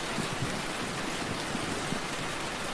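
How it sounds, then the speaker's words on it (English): Gentle rain patters steadily against a window, a dense, even hiss with no pauses, close and unbroken throughout. "Feel the gentle rain against the window."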